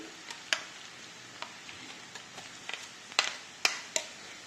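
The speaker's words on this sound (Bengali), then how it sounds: "পেঁয়াজকে হালকা বাদামি কালার হওয়া পর্যন্ত ভাজবো।" Onions and garlic fry in a pan for mung dal, a soft steady sizzle broken by scattered ticks and a few sharper clicks of stirring, close and quiet with no voices.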